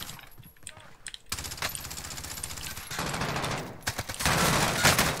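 Bursts of rapid automatic gunfire and single shots in a Call of Duty: Warzone match, growing louder and denser toward the end, with players talking over the shooting.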